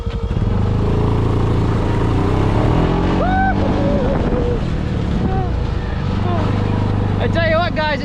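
A turbocharged Pioneer 500 pulls away uphill in second gear, its engine droning loud and steady up close, with the pitch climbing as the boost builds and wind buffeting the microphone.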